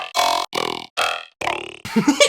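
Five short croaking calls in quick succession, loud and close, the last one more broken and gurgly; no talking.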